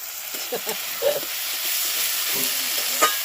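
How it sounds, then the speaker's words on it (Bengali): Onion, chilli, ginger and garlic fry in a pan with steady broadband sizzling, while a utensil scrapes and stirs in several short bursts close by. "দেখো প্রত্যেকটা আমার ভাজা হয়ে গেছে পেঁয়াজ লঙ্কা আদা রসুন খুব ভালো করে কষানো হয়ে গেছে"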